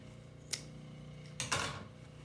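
Scissors trim the excess end of a zipper on a DIY pouf floor cushion, giving two short, sharp snips about a second apart over a quiet background.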